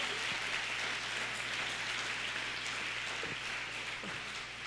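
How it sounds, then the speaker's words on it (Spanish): A church congregation applauds the Lord during a family service, a steady, dense rush of clapping at moderate distance, continuous and without speech, with a low hum underneath. "Dale fuerte el aplauso al Señor"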